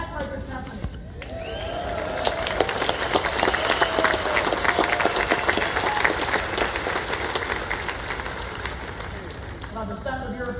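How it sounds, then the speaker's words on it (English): An audience applauds at a gathering, a dense, steady wash of clapping that swells after a couple of seconds and stays loud and continuous, with some cheering and voices mixed in. "The sound of your applause"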